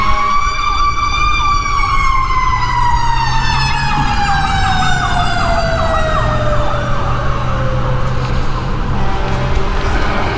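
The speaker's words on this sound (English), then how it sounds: "That's like the fourth fire truck we've heard in the last hour." A loud wailing fire truck siren sweeps up and down continuously, close by, with a low engine rumble beneath and no voices.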